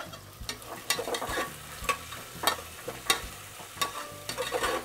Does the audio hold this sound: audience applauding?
no